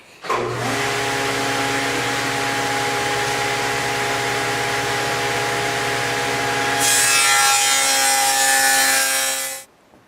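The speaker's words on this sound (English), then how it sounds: "I'm going to put a rabbet on one edge of the end panels to accept the rear panels." Radial arm saw cutting a rabbet along the edge of wooden end panels, a loud steady whine that holds for about nine seconds, growing brighter and harsher near the end before stopping abruptly.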